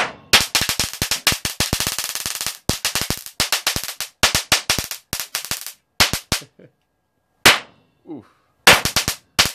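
A 12 kV capacitor is destroyed in a rapid series of sharp, loud, gunshot-like cracks, coming in clustered bursts separated by short silences, with a brief exclamation.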